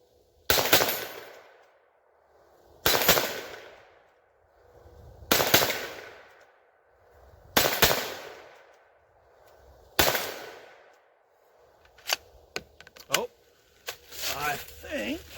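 A BCA Bear Creek 10.5-inch .22 Magnum upper fires five loud, sharp shots, spaced about two seconds apart, then a quick cluster of lighter clicks and clatter.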